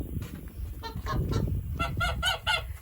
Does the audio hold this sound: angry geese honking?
yes